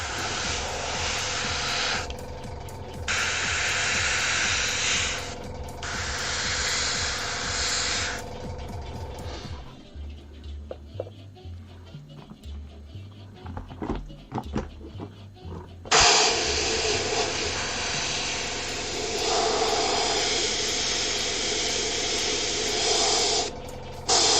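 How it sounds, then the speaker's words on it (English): Aerosol spray paint hisses in long continuous bursts over 3D-printed Warhammer 40k miniature parts, pausing midway for quieter clicks and handling noises before the loud spraying resumes. "Let's get these sprayed in anyway."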